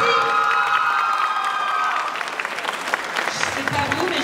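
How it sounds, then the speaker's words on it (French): Applause and cheering from the crowd at a manga festival cosplay contest, rising as a tonal music or voice fades, with scattered claps and shouts. "On l'applaudit."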